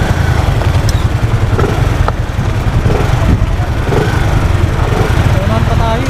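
A motorcycle on the road near Nasugbu and Calatagan drones close and loud while riding, a low steady engine rumble throughout with voices talking over it.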